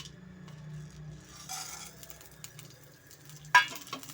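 Fennel, poppy seeds, pepper, cinnamon and cloves frying in hot oil for a village-style mutton kaima unde saaru, a faint steady sizzle with soft stirring and one sharp utensil clink near the end.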